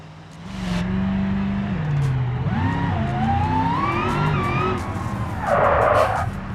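Tires skid and squeal as the brakes lock up on an unladen vehicle in the BeamNG driving game, a wavering squeal over steady engine drone, ending in a louder scrubbing burst.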